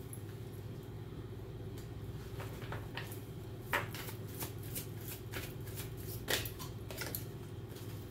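Tarot cards shuffled by hand in a string of crisp riffling bursts, with a couple of sharper snaps near the middle and end, heard close over a steady low hum.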